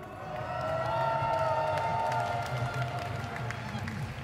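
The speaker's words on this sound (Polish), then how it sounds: "A wy zróbcie hałas, podróżnicy!" A large festival crowd at Pol'and'Rock 2019 cheers, whoops and claps in a steady, loud roar that fills the whole stretch, with voices mixed into the din.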